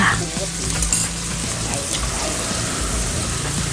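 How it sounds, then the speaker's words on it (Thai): Pork with seasoning sizzles loudly in a hot pan as it is stir-fried, a continuous close frying hiss with bits of scraping from the stirring. "แล้วก็คนคลุกเคล้า ให้เข้ากันนะคะ"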